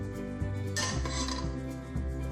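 A metal pan for deep frying gulab jamun is set down in a kitchen, giving a metallic clank and a few light scraping knocks over a steady low background hum.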